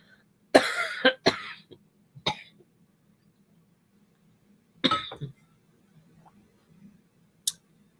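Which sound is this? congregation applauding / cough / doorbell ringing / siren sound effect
cough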